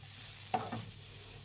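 A spoon stirs a frying aloo bonda potato filling with fresh coriander leaves in a pan, giving a couple of soft scraping strokes over a faint, steady sizzle, with no voices.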